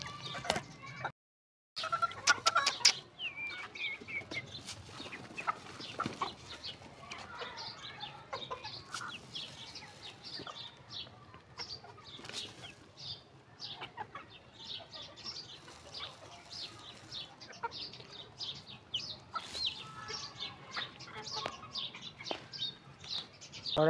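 Aseel chickens cluck and chirp steadily at close range while being fed grain, a busy flock calling over a soft scratchy background, with no talking.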